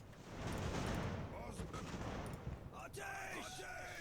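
Artillery fire thunders in the naval battle game Ultimate Admiral: Age of Sail, rolling booms and crackling volleys layered together, with a voice speaking over the din.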